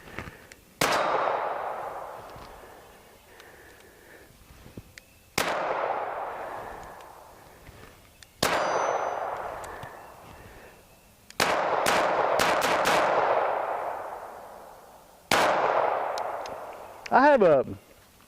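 Walther P22 pistol fired at plate steel 45 feet away outdoors: five loud, close shots spaced a few seconds apart, each with a long echoing decay, the last followed by a ringing metallic ping from the steel target.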